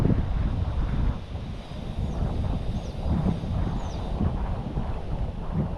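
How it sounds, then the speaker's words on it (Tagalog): A breeze rushes across a microphone on a boardwalk at Siargao Island, making steady, gusting rumble with no voices, while faint high chirps sound in the distance. "Napakatahimik at preskong simoy ng hangin."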